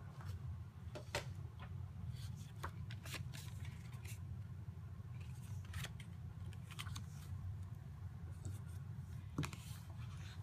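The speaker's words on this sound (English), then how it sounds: "use my scoring blade to make a nice score line right in the middle of the card base" A scoring blade is drawn across a paper card base while making a Stampin' Up! Halloween greeting card, giving faint, scratchy scraping strokes that repeat irregularly over a steady low background.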